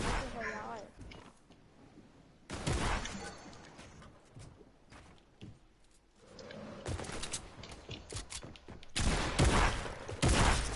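Weapon fire in Fortnite during a World Cup match, coming in loud bursts separated by quieter stretches, with a player talking over parts of the action.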